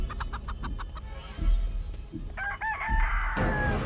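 A chicken in a horror video game gives a quick series of clucks, then a louder, drawn-out crowing call. It is near and clear, with no talk.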